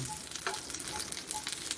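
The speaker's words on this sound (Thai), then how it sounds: "จะทอดอีกหน่อยหนึ่ง" Mackerel pan-frying in hot oil, a steady bright sizzle and crackle continuing throughout, close and fairly loud, with a few brief spits and stirring noises on top.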